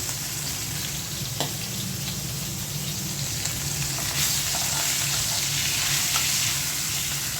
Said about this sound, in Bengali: এই তো হয়ে গেল মাছ ভাজা